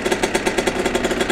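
A single-cylinder 2001 Kawasaki KX125 dirt bike engine with a new exhaust idles close up with a rapid, even pulsing exhaust beat, loud and throaty.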